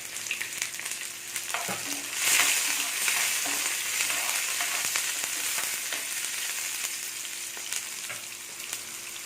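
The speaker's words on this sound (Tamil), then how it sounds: "இது காஞ்ச மிளகா போட்டு தாளிக்கிறேன்." Steady crackling sizzle of dried chilies frying in hot oil for tempering, dense and continuous, with a few louder spits and pops near the start.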